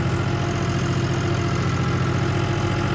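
A John Deere 5210 tractor engine runs under load while lifting a super seeder, a loud, steady diesel drone with an even low throb and no pauses.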